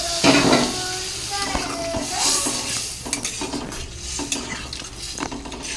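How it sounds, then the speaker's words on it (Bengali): Boiled red lentils go into a pan, followed by scraping and stirring with a utensil, metal clinks and knocks over a soft background sizzle; a voice talks briefly at the start. "এরপর এর মধ্যে দিয়ে দেব সিদ্ধ করে রাখা ডাল, মুসুরির ডাল।"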